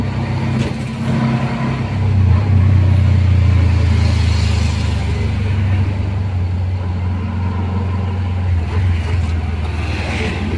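Road traffic near Manila Bay rumbles steadily, with a nearby car or bus engine droning low and shifting pitch, and other vehicles passing under a continuous hum of traffic.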